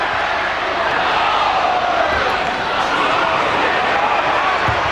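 Steady roar of a football stadium crowd at a 1995/96 Charlton Athletic versus Derby County match, loud and continuous throughout with no distinct breaks.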